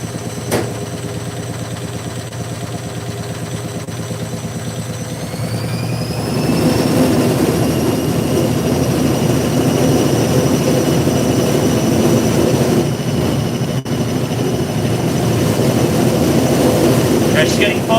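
A Hotpoint 9530 washing machine loaded with bedding runs a slow spin, a steady low drum rumble that surges and climbs into a rising whine midway, then holds loud and close.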